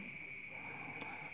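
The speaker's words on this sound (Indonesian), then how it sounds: "biarkan suasana malam menjadi backsoundnya ada suara jangkrik dan macam-macam binatang malam" Crickets chirp steadily on a quiet night, a continuous high, shimmering trill with faint rhythmic pulses, close and even throughout with nothing else heard.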